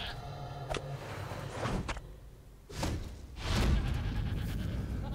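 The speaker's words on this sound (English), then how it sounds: "Where's my goat? Here he is." A goat in the online role-playing game Lord of the Rings Online bleats a couple of times over soft in-game ambience and thuds, moderately close, with quieter gaps between the calls.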